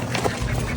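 A goose on a farm gives a short, loud, nasal honk close by, with outdoor background noise.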